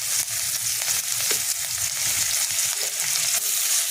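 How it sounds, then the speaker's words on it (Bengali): Chopped onions hit hot oil left from frying pomfret fish, giving a steady, loud, close sizzle that crackles continuously with no one speaking. "এরপর ওই তেলের মধ্যে আমি কুচানো পেঁয়াজগুলো দিয়ে দেবো"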